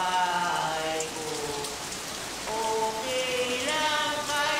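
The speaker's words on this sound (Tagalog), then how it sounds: "Umuulan." Rain falls steadily in a Doraemon cartoon, a constant hiss of drops under musical tones and a sung melody, loud and close throughout.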